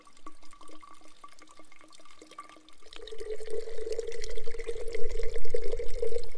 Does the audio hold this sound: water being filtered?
yes